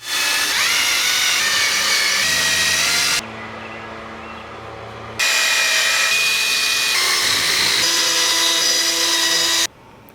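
A power polisher whirs against scratched window glass of a 1965 Ford Falcon in two long, loud runs, separated by a quieter stretch of lower mechanical hum.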